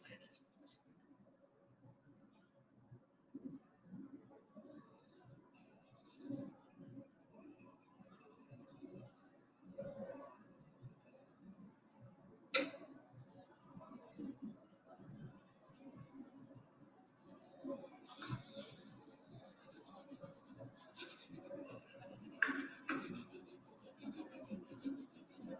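Soft, steady scratching of a colored pencil shading on paper for a leaf art project, quiet and close, continuing with small pauses and occasional firmer strokes.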